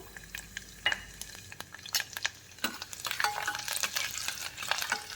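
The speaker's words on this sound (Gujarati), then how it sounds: "તેલ આપણું ગરમ થઈ ગયું છે તો એમાં થોડીક આપણે રાઈ એડ કરશું અને જે લસણ કટ કરેલું છે એ લસણને એમાં એડ કરશું" Mustard seeds and chopped garlic fry in hot oil for a ridge gourd and chana dal curry, with a soft steady sizzle, crackling pops and a spoon scraping and stirring the pan nearby.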